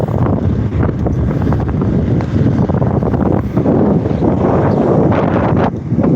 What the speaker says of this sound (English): Oh, super windy. Yeah, we got quite a bit of wind going